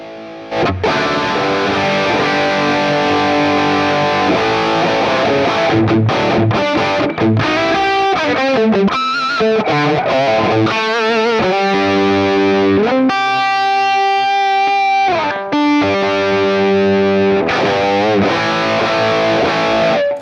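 Electric guitar played through a Blackstar Beam Mini practice amp on a Marshall 1959 SLP capture with heavy drive, loud distorted chords and riffs ringing continuously with brief pauses between phrases.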